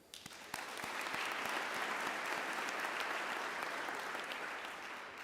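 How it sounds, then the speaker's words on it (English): An audience at a 2023 housing symposium awards event applauds panelists, a steady, even wash of clapping rising quickly and sustained throughout, fairly distant and soft, with no talk over it. "I'd love to give a round of applause to my fellow panelists"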